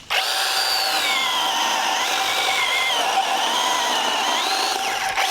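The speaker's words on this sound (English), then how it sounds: "It is a proper chainsaw" A small chainsaw buzzes continuously at high revs for several seconds, its pitch dipping slightly as it bites into wood.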